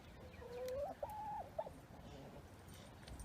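An old chicken lets out a short drawn-out cluck and a couple of brief follow-up notes, fairly faint against a quiet backyard background.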